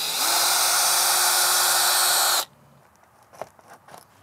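A 1.5-inch hole saw bit on a drill bores loudly into a house wall to widen a hole for a hydrant. The steady, close whine runs for about two seconds, then stops abruptly, leaving faint handling noise.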